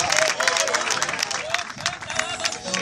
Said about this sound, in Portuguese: Dá uma salva de palmas para o Rei Jesus